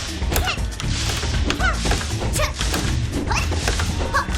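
In Tree of Savior, a character's jump-shot attacks land as a quick run of thuds and crashes, layered with dense, busy game effects.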